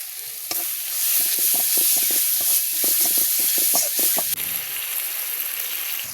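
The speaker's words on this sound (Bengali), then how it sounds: "এরপর মশলাগুলো আমি ভালোভাবে কষিয়ে নিলাম" Ground spices sizzle and fry in a pan over a clay stove while being stirred for a beef curry, with a steady hiss under repeated rhythmic scraping strokes of a spoon, close and clear.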